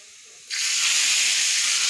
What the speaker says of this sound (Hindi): इसको तड़का लगा लेते हैं